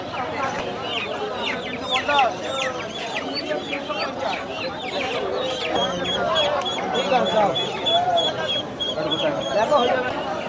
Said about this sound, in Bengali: সাইডে মুরগির বাচ্চা রয়েছে